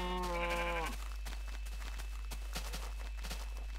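A Minecraft sheep gives one clear, wavering bleat at the start, followed by soft game footsteps and faint clicks at low volume with no talk.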